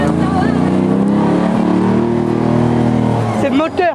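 A loud autocross car engine runs up close at an autocross event, a dense droning roar with shifting pitch that rises briefly near the end, while voices are heard under it.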